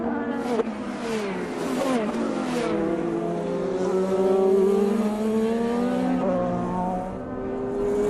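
IndyCar race cars scream through the final corners of the last laps at the 2018 Grand Prix of Indianapolis, engines rising and falling in pitch as cars pass, loud and continuous, with a brief tire squeal or shift near the start.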